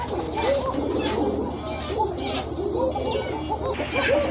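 Pigeons at a pigeon seller's collection coo close by in repeated soft, rounded calls, with people talking in the background.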